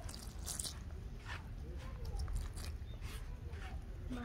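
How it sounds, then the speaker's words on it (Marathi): Hands knead bajra millet flour dough for thalipeeth, working in water bit by bit; quiet, close, soft wet squishing and squelching with irregular pressing rhythm. "आता थोडं थोडं पाणी घेऊन ह्याच्यात मळून घ्यायचं."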